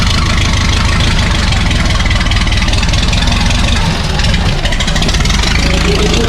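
A loud, steady classic car engine rumbles nearby at idle at an elegance car contest at the Circuit des Remparts in Angoulême, a constant low throb with no breaks, filling the whole stretch.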